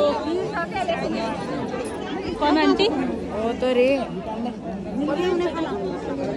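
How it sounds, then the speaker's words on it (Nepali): Dense, busy crowd chatter at a Magar community Makar Sankranti festival gathering, many voices overlapping close by, with one nearby person talking over the hubbub throughout. "ओ माय गॉड कितनी भीड़ है देखो।"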